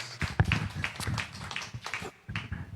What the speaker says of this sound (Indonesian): Berikan tepuk tangan untuk Tuhan Yesus.